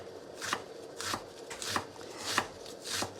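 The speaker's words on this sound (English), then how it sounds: "This one piece, I'm gonna cut it with the knife." A knife cuts vegetables on a board for spaghetti with veggies, giving about six crisp chops at a steady, unhurried pace, close and fairly quiet.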